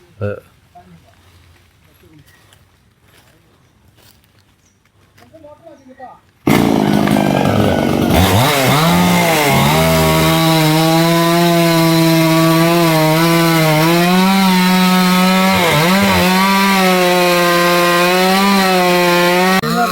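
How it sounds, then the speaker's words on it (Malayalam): Loud petrol chainsaw cutting a tree trunk: after a few quiet seconds of faint ambient sound, the engine starts and runs steadily at high revs, its pitch dipping and rising as the chain bites into the wood, close and continuous to the end. "കയറൊക്കെ ഇടൽ കഴിഞ്ഞ് ഇപ്പോൾ കട്ട് ചെയ്യാനുള്ള പരിപാടിയാണ്"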